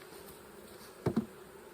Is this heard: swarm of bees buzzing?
yes